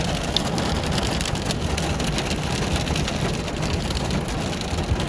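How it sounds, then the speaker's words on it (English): Hail pelts a car during a torrential downpour, a dense, steady rattle of countless hard impacts on the body and glass, loud and continuous throughout. "That is hail."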